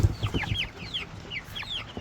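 Broiler chickens being moved to pasture cluck and peep in a busy, close cluster of short overlapping calls.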